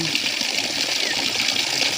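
Irrigation water pours into a fishpond in a steady, loud rushing gush, a continuous broadband flow without pauses, heard close up and alone.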